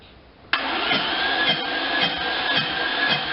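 Double overhead cam car engine cranking and catching with the accelerator pressed, a sudden loud onset after a quiet lead-in, then a steady busy idle with faint periodic pulses.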